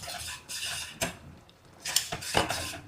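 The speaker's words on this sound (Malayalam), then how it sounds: "കഴുകി വെച്ച ചെമ്മീനിടാം." Washed, headless prawns go into a pan with ginger and garlic for a Kerala-style prawn roast curry, making short metallic clatters and scrapes against the pan in quick bursts, with no talking.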